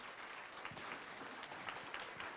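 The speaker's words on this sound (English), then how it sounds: "Please give these gentlemen your best applause for giving their time." Audience applause after a talk on living with Alzheimer's disease and dementia, steady clapping from a modest crowd, heard quite faintly and at a distance.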